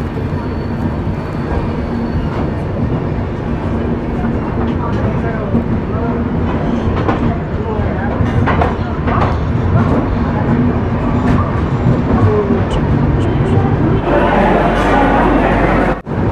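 A steady, loud rumble rolls on without a break inside the AC class coach of the 22911 Shipra Express from Indore to Howrah, with faint voices blended into the din.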